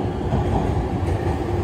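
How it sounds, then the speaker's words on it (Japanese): An E257 Odoriko express train moves along a station platform in Japan, a steady loud low rumble of wheels and running gear filling the whole moment without talk. "6番線列車動きます。"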